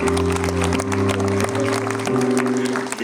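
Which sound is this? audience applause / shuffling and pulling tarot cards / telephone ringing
audience applause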